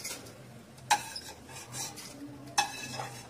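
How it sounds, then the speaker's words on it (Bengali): Parboiled rice fries in oil in a pan under a faint, steady sizzle, with two sharp clinks as a utensil stirs it against the metal. "চালটাও আমি তেলে ভেজে নিচ্ছি"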